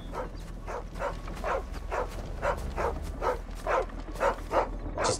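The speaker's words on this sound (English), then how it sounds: "Just a dog." A dog in Final Fantasy XVI barks steadily, about a dozen evenly spaced bow-wows over a low game ambience hum, moderately close and alone without talk.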